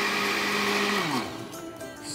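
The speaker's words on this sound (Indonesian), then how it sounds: "sekarang Sobat 7 kita akan blender. Sebentar aja, yang penting es sama susunya kecampur" A kitchen blender whirs loudly as it mixes ice and milk for a milkshake, holding a steady high whine before its pitch drops and it spins down.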